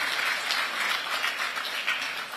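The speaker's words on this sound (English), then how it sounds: "the organizers deserve a round of applause from us" Conference audience clapping together in a steady, dense round of applause that fills the room, even and sustained from start to finish with no voices.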